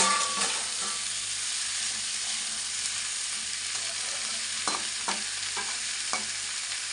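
Ivy gourd frying in a pan with salt, a steady close sizzle broken by a few sharp scrapes of a spatula as it is stirred, no voices.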